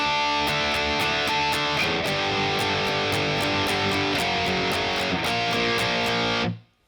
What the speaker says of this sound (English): We put that all together and the chorus rhythm sounds like this.